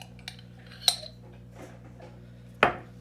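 Dijon mustard being spooned into a bowl, heard as two sharp metallic clinks of a spoon against the bowl with softer scraping between, close and otherwise quiet over a faint hum.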